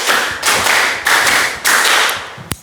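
A group claps in a counted icebreaker game, three distinct clusters of rapid claps spaced evenly, followed by a single sharp clap near the end, loud and close with no talking.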